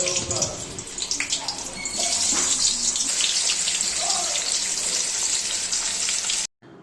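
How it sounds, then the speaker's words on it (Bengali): Vegetable slices coated in salt and turmeric fry in hot oil, giving a continuous bright sizzle with crackling spatters that swells after the first couple of seconds, with some clatter and faint household sounds before it cuts off abruptly. "ভাজাগুলোতে নুন আর হলুদ মাখিয়ে একটা একটা করে ভেজে নিই"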